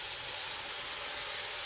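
Spices sizzle in hot oil in a home kitchen, a steady broadband hiss like steam that stays constant and close throughout the short stretch, without speech.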